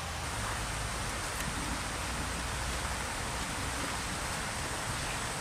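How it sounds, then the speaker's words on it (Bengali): Steady monsoon rain falls outside a home kitchen as an even, unbroken hiss that holds at a constant level throughout, with no voices. "ও মা, আবার বৃষ্টি নেমে গেল।"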